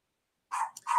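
A dog gives a couple of short, fairly close barks indoors, one quick yelp followed by another after a brief pause, with nothing else around them.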